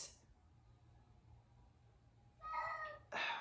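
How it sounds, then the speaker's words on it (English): A house cat meows indoors, two short faint calls near the end after a quiet stretch of room noise. "my cat just came in here"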